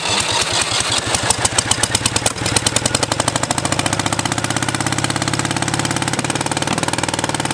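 A Citroën Ami 6 car engine restarts and runs with a loud, rough, rapid pulsing beat that steadies into a fast, close, continuous rattle.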